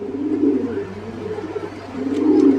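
A pair of pigeons cooing inside a cage at a pigeon farm, a steady low rolling coo that swells and fades across the whole stretch, close and fairly loud, with no voices over it.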